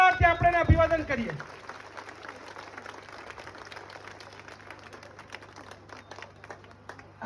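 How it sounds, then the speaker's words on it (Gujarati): A voice speaks briefly at the start. Then an audience claps steadily and at a moderate level for several seconds, applauding a village daughter named Vasundhara for completing her training at a public gathering. "ખૂબ તાળીઓના ગડગડાટથી આપણે અભિવાદન કરીએ."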